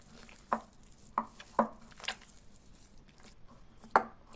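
Mashed potato paste being mixed with two spoons of oil in a bowl for masala potato balls: a handful of soft, sparse taps and knocks spread across a quiet background, with no talking.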